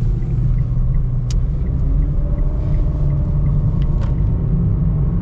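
A small, lightweight, zippy car's engine drones steadily at full throttle while driving, a loud continuous low rumble with road noise and no talking.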